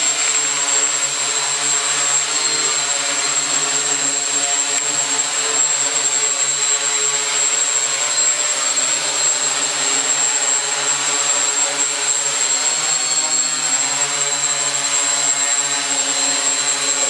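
A hovering multi-motor drone gives off a steady, close electric whine with a layered propeller buzz that holds even and continuous throughout, with no voices.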